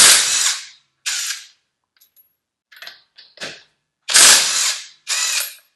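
Cordless 20V brushless impact wrench spinning car lug nuts off, loud close bursts of hammering whir, four long runs with a few short clicks and taps between, no talking.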